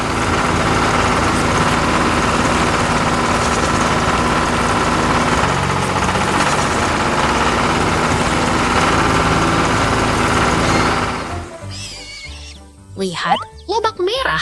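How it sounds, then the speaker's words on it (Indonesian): A cartoon tractor engine runs steadily as it loosens farm soil for planting. It is loud and continuous for about eleven seconds, then cuts off and a voice speaks. "Traktor itu sedang menyiapkan tanah agar gembur dan siap untuk ditanami"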